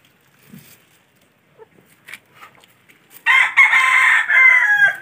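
Rhode Island Red chickens on a backyard farm: a few soft scattered clucks, then a loud, close rooster crow lasting nearly two seconds at the end.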